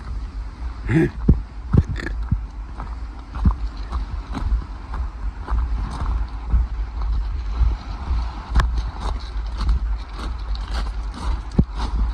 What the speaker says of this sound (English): The boat's going over the curve.